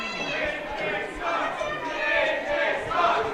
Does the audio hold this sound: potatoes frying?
no